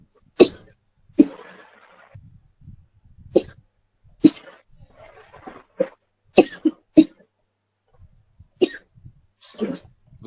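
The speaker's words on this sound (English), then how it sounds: "Looks like you're having a bad cough" Someone coughs repeatedly in sharp, separate bursts spread across the stretch, close and fairly loud, with quiet pauses between them.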